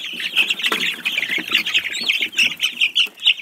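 Twelve-day-old Barred Rock chicks give a dense, continuous chorus of high peeping and chirping calls close to the microphone, with faint handling noise underneath.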